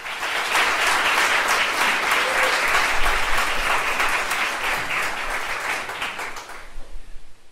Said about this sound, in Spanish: dale un fuerte aplauso al Señor, por favor.